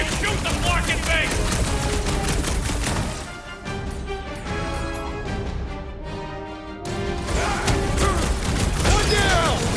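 Dense rapid gunfire and blasts crackle through a fight in Marvel's Guardians of the Galaxy, easing briefly in the middle before erupting again, with voices and music underneath.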